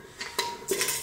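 Dishes and cutlery clattering while a home kitchen is tidied up after cooking: three quick, close, bright clinks and clanks, with no talking.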